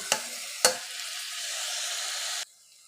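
Curry leaves and tomatoes drop into hot oil for chicken curry: two sharp splashes set off a loud, hissing sizzle that holds steady for about two seconds, then drops away abruptly.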